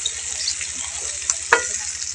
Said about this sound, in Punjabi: ਤੜਕਾ ਲੱਗ ਗਿਆ ਕੜੀ ਨੂੰ, ਤੜਕਾ ਉੱਪਰ ਮਿਕਸ ਕਰ ਦਿੱਤਾ।